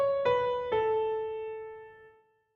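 Piano notes played one after another, starting from A and walking upward; each key strikes cleanly with a bright tone that rings and slowly fades, three notes within a couple of seconds, alone and close.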